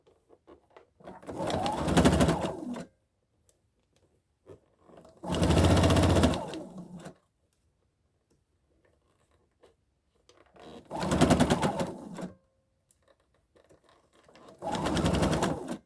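Sewing machine stitching a fabric hair scrunchie in four separate loud bursts of rapid, steady whirring, with near-silent pauses between runs.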